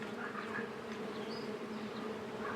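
Many bees buzz outdoors in a steady, layered hum, close and continuous, with no speech.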